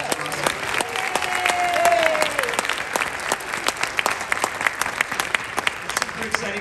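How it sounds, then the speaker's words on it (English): Audience applause after a symphonic band and wind ensemble spring concert, a dense sustained wash of clapping with a faint tone running through it and a voice or two under the applause, which swells and then gradually thins. "Another round of applause."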